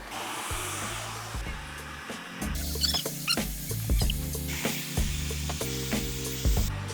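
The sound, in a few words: hair dryer blow drying hair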